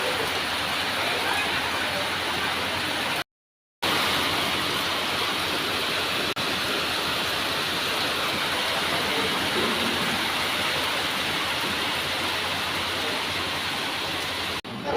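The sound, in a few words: heavy rain pouring down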